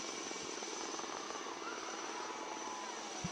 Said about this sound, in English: The indigenously built Chetak helicopter is extensively used for logistic support, medevac and SAR missions over both land and sea